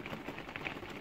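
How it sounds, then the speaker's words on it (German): Rain pattering steadily on a surface outdoors in Portugal, a brief close wash of dense drops with no voices. "es regnet, ne?"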